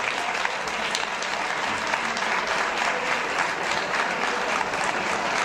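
An audience claps steadily for several seconds during a fiesta presentation by the mayor of Madrigal de la Vera, with dense, even applause close by and nothing standing out above it.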